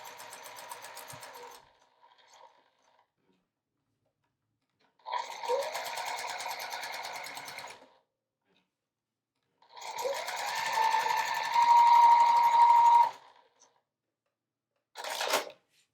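Sewing machine baste-stitching a pocket in place, running in four bursts of rapid mechanical whirring and needle clatter, the longer runs lasting a few seconds, separated by silent pauses.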